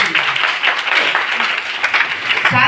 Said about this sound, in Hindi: बार ताली बजानी चाहिए आप सभी।